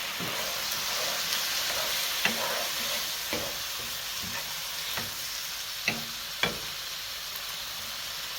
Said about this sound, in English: And I think now I'll stir.